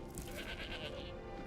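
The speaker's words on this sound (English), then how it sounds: "That's my goat." A goat bleats in a video game, a short wavering call that sounds close and fairly loud over a dense game background, with no talk over it.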